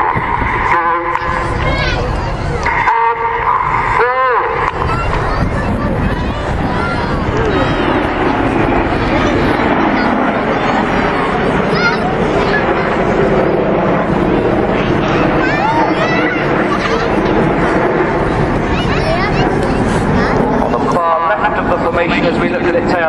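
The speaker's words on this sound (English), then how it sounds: "this is the shuttle roll." Red Arrows BAE Hawk jets fly a shuttle roll at the Sunderland International Airshow, their engine roar loud and continuous, swelling and fading over crowd noise while a commentator talks throughout.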